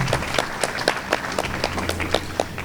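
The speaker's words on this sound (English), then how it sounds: "So let's give them a big round of applause." A Juneteenth celebration audience in Bloomfield claps, a sparse, fairly close patter of individual hand claps in an uneven rhythm, with no speech over it.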